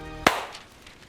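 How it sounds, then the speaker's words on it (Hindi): One sharp, loud hand clap used as a transition, cutting off a preceding tonal sound and leaving a brief fading decay. "ट्रांजिशन वाली ताली बजा देते हैं"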